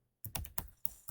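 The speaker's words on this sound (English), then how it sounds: "I type my name, my email" Quick typing on a computer keyboard, about five crisp key clicks in an irregular rhythm, close and clear with no talk over them.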